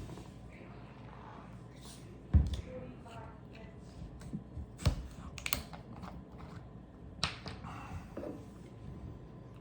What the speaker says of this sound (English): So I will crack it here and we'll see what happens.